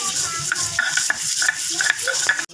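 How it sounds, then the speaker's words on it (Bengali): Potatoes are stirred while lightly frying in oil in a pan, giving a close, continuous soft sizzle broken by quick scraping strokes of the spoon. "এখন আলুগুলোকে হালকা ভেজে"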